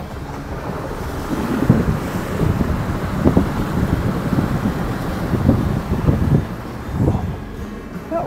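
An off-road overlanding vehicle splashes through a small creek crossing on a National Forest trail, with rushing water and sloshing bursts under heavy wind buffeting on the microphone, no talk.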